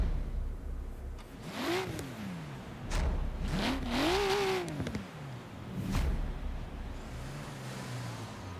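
A Nissan S15 Silvia drift car revs hard in Forza Horizon 3, its engine note climbing and falling in several rising sweeps, loud and close with no talk over it.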